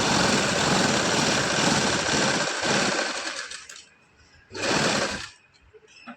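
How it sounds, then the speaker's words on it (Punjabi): Sewing machine stitching a centered seam along a neck design with lace and buttons, running steadily for about three seconds, stopping, then a second short burst of stitching; close and loud, no talk. "ਇੱਕ ਸਲਾਈ ਆਪਾਂ ਸੈਂਟਰ ਕਰਕੇ ਲਗਾ ਲਾਂਗੇ ਜੀ ਇਸ ਤਰ੍ਹਾਂ ਗਲੇ ਦਾ ਬਿਲਕੁਲ ਸੈਂਟਰ ਕਰਕੇ ਆਪਾਂ ਸਲਾਈ ਲਗਾ ਲਾਂਗੇ"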